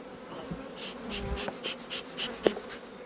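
Honey bees hum and buzz around an open hive during a check of the supers, a continuous swarm drone with individual bees passing close in repeated soft pulses.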